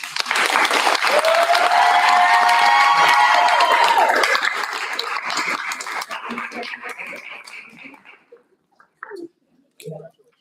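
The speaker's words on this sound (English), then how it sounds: "Another round of applause for our Educators of the Month" At a school board meeting, a room applauds honorees with loud, dense clapping that holds for about four seconds. It then tapers off gradually, ending in a few scattered claps and faint voices.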